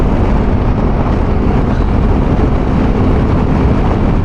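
Honda 1100 motorcycle engine accelerating up to speed, heard as a loud, steady, unbroken roar mixed with rushing wind noise.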